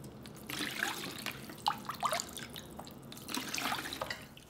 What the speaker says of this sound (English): So I'm going to filter this, my soy sauce, one more time.